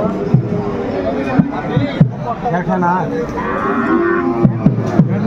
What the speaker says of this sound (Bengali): দেখছিলাম সামনে একটা চমৎকার শাহিওয়ালের বাচ্চা, ষাঁড় বাচ্চা আমরা দেখছিলাম